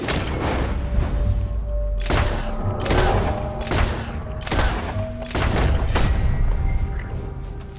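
Gunshots in Red Dead Redemption 2, a rapid run of loud cracking shots with booming tails, half a dozen blasts over a steady rumbling background.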